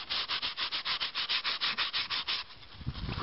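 Hand sanding of a Volkswagen Golf 2 bumper with ordinary sandpaper: steady, rhythmic back-and-forth rasping strokes, close and fairly loud, about fifteen even passes before the scraping turns looser and quieter near the end.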